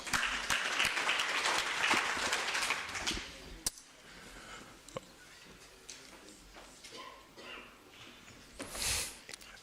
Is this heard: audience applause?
yes